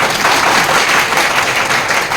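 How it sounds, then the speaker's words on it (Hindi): Audience clapping at a sales event promoting a protein sweet: dense, steady applause from many hands fills the whole short stretch at an even level, with no voices over it. "ताली बजा दोगे?"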